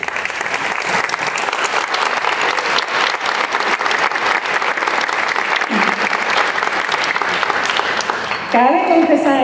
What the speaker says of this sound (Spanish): Les pido a los graduados, por favor, un fuerte aplauso para esos seres tan especiales que estuvieron siempre ahí.